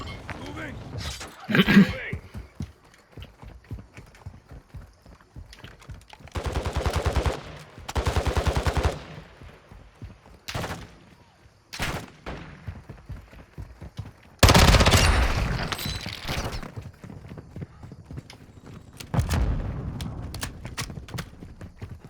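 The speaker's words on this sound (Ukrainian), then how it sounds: "Снайпер б'є" Sniper rifle shots ring out in Call of Duty DMZ as sharp, separated cracks and bursts between stretches of quieter play, with players talking over the action.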